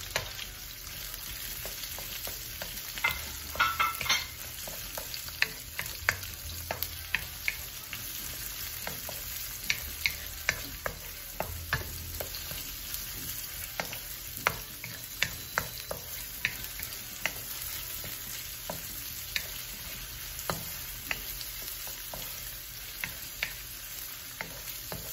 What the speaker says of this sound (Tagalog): Sundutin po natin ang ating onion.